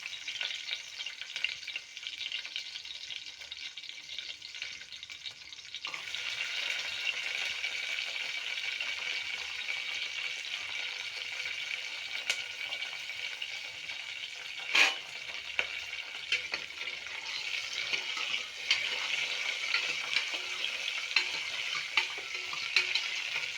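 Onions frying in a pan with a steady hiss and sizzle that grows louder after a few seconds and continues evenly, with one brief utensil clack partway through and no talking.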